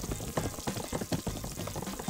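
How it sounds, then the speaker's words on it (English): Water pours into a glass in the video game Who's Your Daddy, a continuous bubbling, splashing liquid stream lasting a couple of seconds. "I'm gonna try and put water in the glass."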